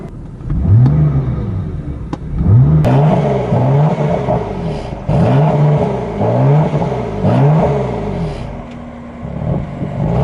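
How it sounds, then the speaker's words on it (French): A 2014 BMW M3/M4 accelerates hard around the Portimão circuit in Portugal, its engine rising repeatedly through the gears with quick upshifts and snarling revs, loud and close from inside the car. "C'est parti pour un tour du circuit de Portimao au Portugal."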